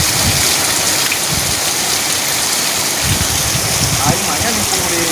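Steady rain pours down in a comedy scene, a dense, even hiss that stays constant throughout, with faint low voices mixed in underneath.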